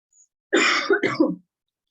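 A person coughing while recovering from COVID, two or three rough, hoarse bursts with a throat-clearing quality, close and fairly loud, alone in a quiet room.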